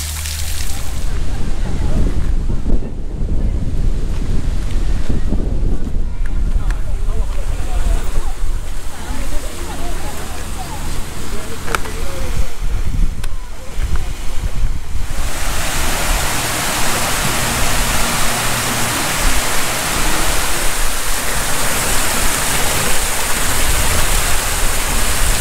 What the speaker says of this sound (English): there's a tree with water coming out of it